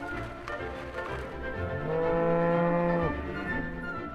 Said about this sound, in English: As the cattle come down off the dusty mountain road, Ken stops them